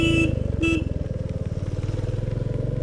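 Motorcycle climbing a steep hill in first gear, its engine chugging in a close, steady pulsing drone, with two short horn toots at the start.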